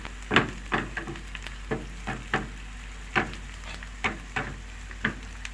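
Onion browning in hot oil as the topping for a spinach tajine, with a soft steady sizzle broken by about ten sharp stirring clacks at irregular intervals.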